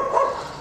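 A single short bark from a mine-detection service dog, brief and moderately close, quickly fading away.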